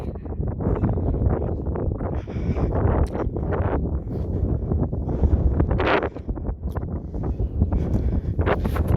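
Strong gusts batter the microphone, a loud rumbling roar that surges and dips continuously, with occasional rustling on top.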